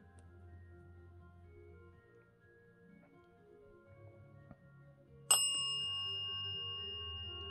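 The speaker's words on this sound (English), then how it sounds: "Do you mind ringing the bell for us a couple of times?" A small bell struck once, giving a bright ding that rings out and slowly fades in an otherwise quiet room with faint low rumble.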